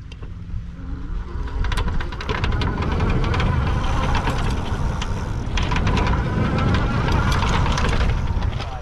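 Rad Power RadWagon 4 cargo e-bike ridden on its highest pedal-assist level, giving rough, rumbling tire and wind noise with rattling mechanical clicks that build as riding gets under way, close and loud.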